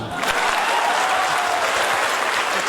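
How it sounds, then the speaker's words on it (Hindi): An audience breaks into hearty applause for Chacha Sahab, a thick continuous burst of many hands clapping at close range that stays strong throughout. "तो चाचा साहब के लिए एक जोरदार ताली"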